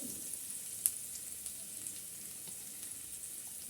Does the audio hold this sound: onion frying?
yes